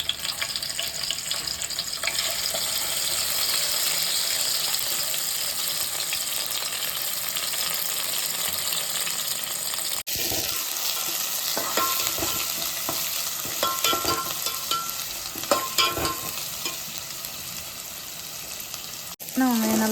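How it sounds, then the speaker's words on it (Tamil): Crushed small onions (shallots) sautéing in oil tempered with mustard seeds and fenugreek, a constant close sizzle, with a sudden cut partway through after which stirring knocks and scrapes sound over the frying. "இடித்து வச்ச சின்ன வெங்காயத்தை அதில் போட்டு நல்லா வதக்கி எடுத்துக்கலாம்"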